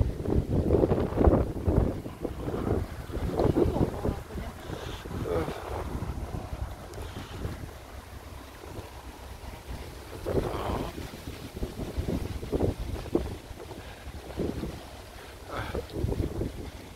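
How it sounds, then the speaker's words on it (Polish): An old English barge passes on the Grand Union Canal at Slough, its low engine chugging under wind buffeting on the microphone, while people talk and children's voices come and go. "teraz barka tu płynie"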